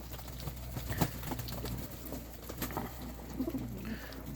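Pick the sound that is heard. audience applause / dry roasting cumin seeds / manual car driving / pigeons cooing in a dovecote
pigeons cooing in a dovecote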